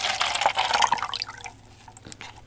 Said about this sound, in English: I got a cup to pour it in.